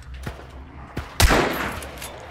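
Gunfire in the video game Hunt: Showdown: two sharp shots spaced apart, then a louder, closer blast with a lingering rumbling tail.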